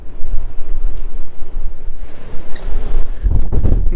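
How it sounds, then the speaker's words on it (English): Wind gusts buffet the microphone on the open deck of a cruise ship at sea, making a loud, uneven low rumble throughout. A stronger blast swells near the end. "it's getting a little windier"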